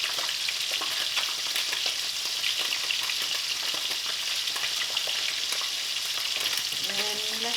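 A pot of straw mushrooms comes back to a boil, giving a dense, steady hiss and bubbling sizzle that carries on without a break, close and fairly loud.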